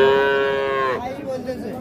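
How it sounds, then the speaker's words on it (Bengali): A four-month-old Sahiwal bull calf at a cattle market gives one loud, close, drawn-out moo lasting about a second, then quieter background market noise follows. "এটা হচ্ছে 4 মাস বয়স হবে, শাহিওয়াল ষাঁড় বাচ্চা"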